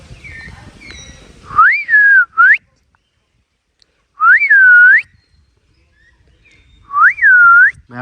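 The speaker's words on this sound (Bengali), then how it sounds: "মিঠু মানে টিয়া পাখির সাউন্ড আছে।" Parrots calling near an old banyan tree, three loud rising-and-falling whistled calls, each about a second long, spaced a few seconds apart with quiet between, over faint background chatter.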